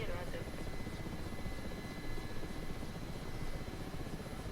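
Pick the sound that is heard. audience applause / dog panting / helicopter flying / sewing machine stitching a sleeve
helicopter flying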